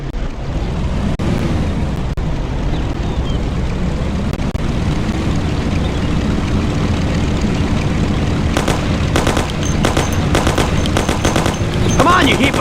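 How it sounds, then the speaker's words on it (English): Thompson submachine gun fire in the video game Mafia, rapid bursts crackling over a loud continuous engine drone, the bursts growing denser toward the end. "Take my Thompson. You and Sam shoot them."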